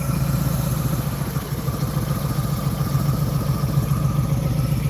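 A motorcycle engine runs close by at low revs while the rider practises gear shifts, making a steady, throbbing mid-pitched rumble with a fairly even beat and no voices over it.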